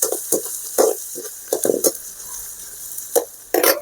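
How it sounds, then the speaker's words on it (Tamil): Onion, green chilli and curry leaves sautéing in a pan for prawn kuruma, intermittent scraping and tapping of a spoon stirring over a soft, faint sizzle, no voices. "அதையும் நல்லா வதக்கிட்டுருங்க."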